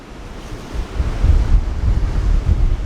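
Rough surf breaking along the coast with strong wind buffeting the microphone, a steady roar of waves swelling louder midway and holding, no voices.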